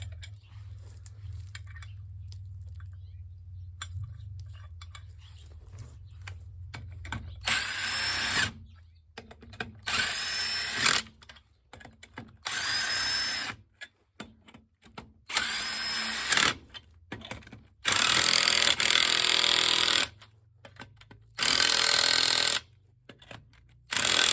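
A power tool runs in repeated bursts of whirring, some short and some sustained, as a coilover is threaded on at an EA82 Subaru's suspension, with quiet pauses between, after a low hum in the opening seconds.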